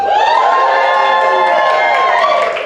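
Excited cheering and whooping from an audience at a drama therapy anniversary event, loud and continuous for a few seconds with shouted voices rising together.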